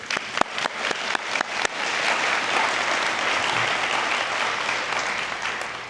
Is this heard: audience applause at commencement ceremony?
yes